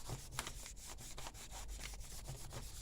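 Chalk pastel rubbed over a junk journal page makes steady, scratchy back-and-forth strokes, close and continuous, with no voices.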